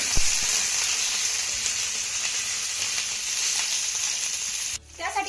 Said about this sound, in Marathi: आता ही वांगी आपल्याला तव्यामध्ये छान अशी मौसूक होईपर्यंत परतून घ्यायची आहे